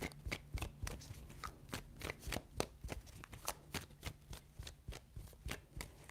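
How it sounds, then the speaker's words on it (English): Tarot cards are shuffled in quick repeated riffles, a rhythmic series of crisp flutters and taps, close and fairly quiet, without speech. "3 shuffles."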